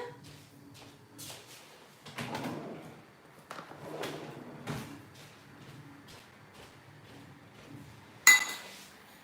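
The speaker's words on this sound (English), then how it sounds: "I'm gonna mix it up with a spoon" A spoon stirs sprinkle mix in a bowl for decorating cupcakes, giving scattered soft scrapes and clinks with a sharper knock near the end, fairly quiet and close.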